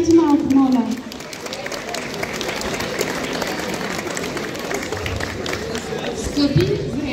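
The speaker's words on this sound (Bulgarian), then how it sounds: "Аплодисменти малко, моля." Steady applause from a crowd at a school graduation ceremony, a sustained wash of clapping at even loudness with a voice briefly audible at the start and again near the end.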